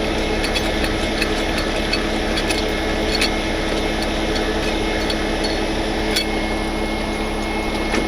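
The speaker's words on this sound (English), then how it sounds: "Now we crank our landing gear" Trailer landing gear being cranked by hand gives a continuous metallic grinding drone with faint, regularly spaced clicks from the crank mechanism, loud and close throughout.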